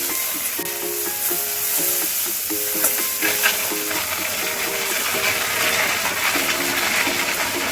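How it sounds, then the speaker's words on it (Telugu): Dried red chillies and curry leaves crackling in hot oil for a raw mango pulihora, a steady bright sizzle with scattered pops and repeated light metallic taps from stirring. "తర్వాత ఎండుమిరపకాయలు వేసేసుకోండి. తర్వాత కరివేపాకు వేసేసుకోండి."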